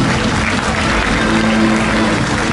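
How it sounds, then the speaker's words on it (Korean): Steady, dense applause fills a hall at a Rotary International district conference as a standing audience claps together, loud and continuous from start to finish. "모두 일어나서 함께 박수 보내주시기 바랍니다."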